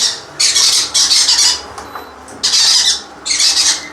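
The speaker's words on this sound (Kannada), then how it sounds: "ಬರ್ಡ್ಸ್ ಎಲ್ಲ ಭಯಂಕರ ಸೌಂಡ್ ಮಾಡ್ತದೆ" Pet birds squawk loudly at feeding time, shrill harsh bursts in four close, repeated volleys with short pauses between, near and dominant with no talking.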